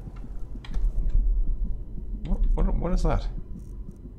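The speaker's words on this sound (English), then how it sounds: "What the heck is causing the heartbeat sound?" Inside the video game Skyrim, a muffled heartbeat throbs low and steady while someone talks over it, his voice partly masking the pulses.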